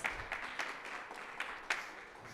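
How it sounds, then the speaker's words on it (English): Faint applause from a small audience after a GovHack finalist team's stage presentation, a sparse patter of claps with a few sharper hits, heard at a distance and fairly quiet. "Let's give them a round of applause."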